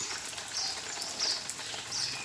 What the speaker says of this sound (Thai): แล้ววีว่าเสียงน้ำธรรมชาตินี้ ฟังดูม่วนดีนะเจ้า